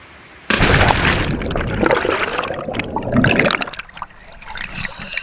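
Rushing water from a waterfall in Oman, a broad steady roar that starts abruptly and stays loud and close, easing slightly toward the end.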